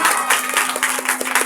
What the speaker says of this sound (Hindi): बेटी के लिए जोरदार तालियां।